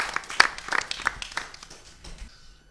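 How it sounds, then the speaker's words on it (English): A quiz audience gives a short round of applause for the first finalist, a brief burst of clapping that peaks early and quickly thins out into scattered claps. "Can we have a small round of applause for the first finalist?"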